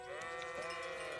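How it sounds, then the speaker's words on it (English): Sheep bleating in the video game Kingdom Come: Deliverance, a sustained wavering bleat heard at moderate distance over steady in-game background sound. "Run, sheep!"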